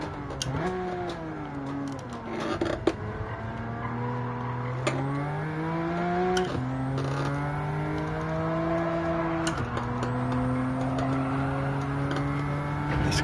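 Race car engine in Gran Turismo 7 revving hard through repeated upshifts, pitch climbing then dropping at each gear change, loud and continuous with brief tire squeal.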